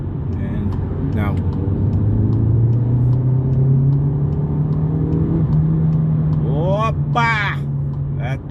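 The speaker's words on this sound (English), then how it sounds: "So I'm going to just accelerate quickly to 100." A 2022 Volkswagen Polo GTI accelerates hard on a South African highway, engine note climbing steadily in pitch for several seconds before a gear change, heard from inside the cabin with a brief burst of voice near the end.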